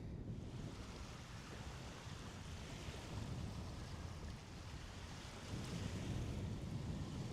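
Arctic Ocean waves break and wash steadily beside a small harbor while wind buffets the microphone, a continuous rushing roar that swells slightly toward the end, with no voices.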